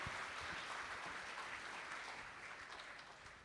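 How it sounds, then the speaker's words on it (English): A banquet crowd claps steadily in a dense, sustained wash of applause that fades slightly toward the end, with no voices standing out. "Let's give Dave and Deanna a round of applause for all that they do."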